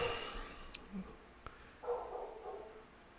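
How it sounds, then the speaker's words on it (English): A dog barks in the background, a few faint, scattered yips and barks spread over a few seconds against a quiet indoor hum. "Dog is barking in the background."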